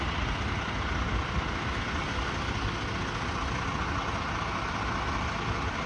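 A Brea Fire Department engine and ambulance idle: a steady, broadband diesel rumble with no breaks, moderately distant and unchanging, with no voices.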